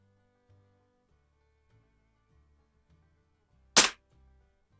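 A single sharp crack from a Hawthorne M130 .22 caliber multipump air pistol made by Crosman, heard once and close in otherwise near-silent surroundings.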